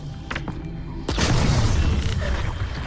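A grenade goes off in Half-Life: Alyx, one loud booming blast that hits suddenly and then rumbles and crackles away slowly, with a few faint knocks before it.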